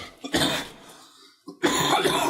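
Two harsh coughs from one person below deck on a sailing ship, close and loud, separated by a short quiet gap.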